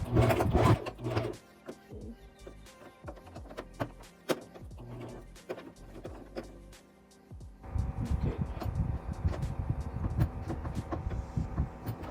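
A sewing machine double-stitching along a replacement invisible zipper, running in short bursts of rapid whirring stitches, then settling into a steadier, louder continuous run, close by with no talk.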